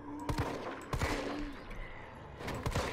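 Rapid gunfire from Resident Evil 3 (first-person demo mod), several loud sharp bursts near the start, middle and end with game ambience between, no talking.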